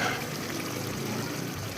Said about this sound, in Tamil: மிக்சி இன்னும் லைட்டாக கழுவி, அந்த மிக்சி ஜாரை கழுவி